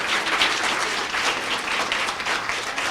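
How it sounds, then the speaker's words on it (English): Audience applause for Miss USA Susie Castillo fills the space, a dense, steady wash of many hands clapping at close range with no pauses. "So how about a nice Lawrence round of applause for Miss USA, Susie Castillo."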